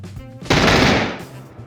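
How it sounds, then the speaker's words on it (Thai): A single loud gunshot from an accidental discharge in the battle royale game PUBG cracks out after a brief murmur and rings off in a fading tail. "ปืนลั่นปืนลั่น"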